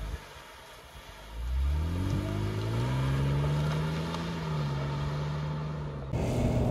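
A first-generation BMW X5 E53 on an open road, its engine note climbing steadily under acceleration and then holding at a steady cruising drone with road and wind noise beneath.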